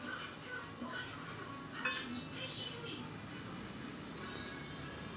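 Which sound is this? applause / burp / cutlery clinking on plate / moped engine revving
cutlery clinking on plate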